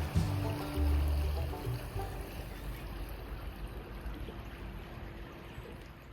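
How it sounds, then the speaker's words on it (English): Creek water flows steadily beside a pole barn shed on a freezing day, a soft continuous wash that fades slightly after a brief low rumble at the start, with no voices. "Creek's looking good, sounding good too."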